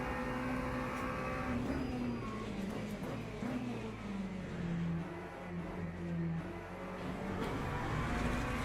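A race car in the racing game Le Mans Ultimate brakes hard into a left-hand corner, its loud engine note dropping and shifting steadily throughout.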